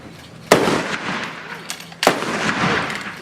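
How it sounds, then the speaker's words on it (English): Two loud musket volleys from a firing detail at the Mackinac Island fort, about a second and a half apart, each a sharp blast followed by a rolling outdoor echo amid crowd murmur. "Fire. Load. Ready. Detail fire by file."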